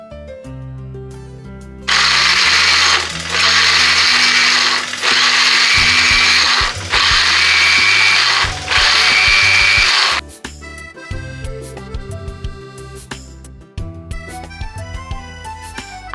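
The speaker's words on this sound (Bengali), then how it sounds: "সবাই তো মেশিনে আখের রস বার করে, আজকে আমি ব্লেন্ডারে প্রথমবার বের করব" A kitchen blender grinding sugarcane to extract juice, running in four loud, whirring bursts separated by brief pauses, followed by clattering handling sounds.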